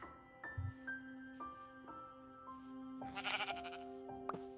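Two sheep in Minecraft bleat a few times, short wavering calls over steady tonal in-game background sounds with occasional clicks, and no talk.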